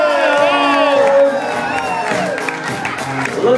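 An audience at a hypnotist's stage show cheers wildly, a loud dense roar of shouting, whoops and screams with some clapping, sustained throughout.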